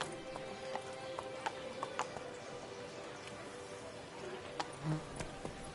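A horse's hooves clip-clop in a steady rhythm in the video game The Witcher 3: Blood and Wine, fairly quiet over a constant bed of game ambience.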